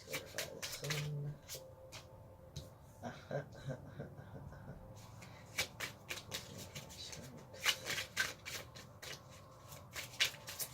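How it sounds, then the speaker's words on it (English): Tarot cards being shuffled by hand, a run of soft riffling and rubbing bursts with sharper card snaps in the second half, close and fairly quiet, with no talking. "Some days it takes me a while to shuffle,"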